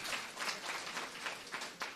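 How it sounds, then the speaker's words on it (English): Faint applause from an audience at a Martin Luther King Jr. oratorical contest honoring students and educators, a soft, distant continuous patter of clapping. "let's give our students as well as the educators a round of applause"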